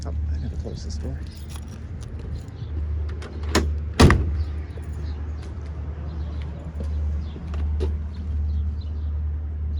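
The door of a 1959 Ford Galaxie with performance upgrades shuts once with a solid nearby thump, over a steady low hum, with someone talking around it.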